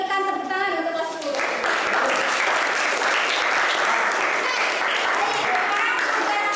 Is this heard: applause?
yes